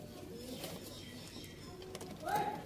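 Sialkoti pigeons give soft, low coos close by, with a faint chirp and some background noise. A brief louder call rises near the end.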